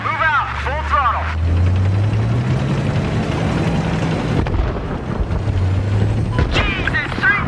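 A tank in Battlefield 3, in a desert tank battle, pulls away at full throttle with a loud rising engine roar and grinding tracks. Voices talk over it at the start and end.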